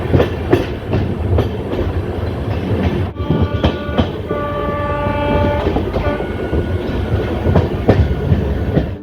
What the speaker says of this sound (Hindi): अब हमारी south Bihar express Raigarh railway station पहुंच चुकी है